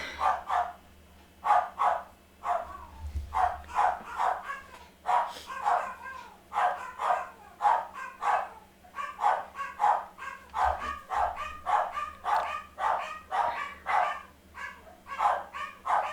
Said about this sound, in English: The male's here, so the dogs are barking